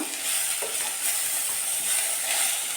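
Egg curry masala frying in a pan, a steady, close hiss and sizzle with faint stirring scrapes throughout.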